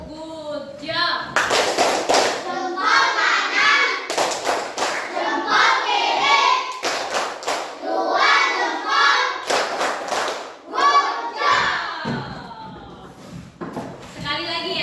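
Fourth-grade pupils in a classroom chant a clapping game together, sharp rhythmic bursts of claps and thumps between loud group voices and children's speech.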